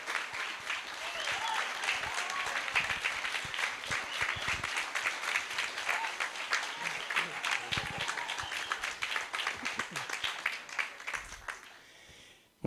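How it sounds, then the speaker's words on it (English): A graduation audience gives a long, dense round of applause for the 2019 graduating class, steady clapping that fades out near the end. "One last round of applause for our recently graduated 2019 graduating class"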